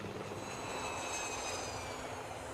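Harold the helicopter from Thomas & Friends gives off a steady, droning engine whir with a constant whine, moderately loud and unchanging across the short stretch, with no voices.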